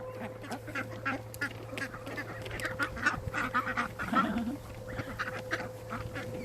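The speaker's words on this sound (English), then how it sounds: "Oh, they are happy ducks." Ducks quacking and honking in short bursts outdoors at a house construction site, mixed with steady hum and wind, while people talk nearby.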